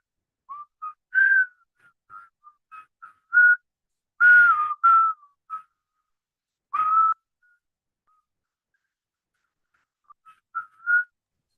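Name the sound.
person whistling a tune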